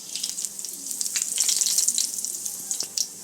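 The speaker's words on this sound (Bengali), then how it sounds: "আমি এখানে 1 চা চামচ 5 ফোড়ন দিয়ে দেবো।" Panch phoron spices crackle and spit in about two tablespoons of hot mustard oil in a kadai for Bengali rui fish curry, a bright, close sizzle that swells in the middle and pops near the end.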